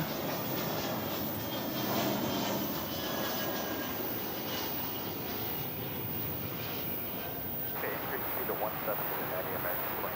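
A Delta Airbus A340 from Minneapolis-St. Paul comes in to land at Dallas-Fort Worth airport in poor visibility, its engines a continuous rushing roar, with a voice talking over it.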